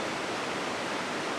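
A river being crossed on foot near Lombok's Sindang Gile and Tiu Kelep waterfalls rushes in a dense, steady roar, close and loud with no voices over it.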